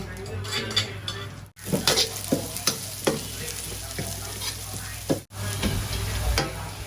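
Dry holy-basil beef with pounded dried chili and garlic being stir-fried: a steady loud sizzle, with repeated scraping and clinking of a spatula against the pan in an irregular rhythm, close up.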